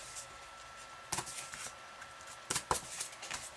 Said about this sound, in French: Je vais gommer mes petits points